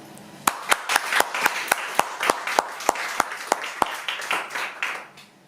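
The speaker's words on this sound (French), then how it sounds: "On peut les applaudir" Scattered hand claps from a small audience at a slam poetry evening in Nice, sharp and distinct, a loose uneven rhythm of individual claps that thins out and fades near the end.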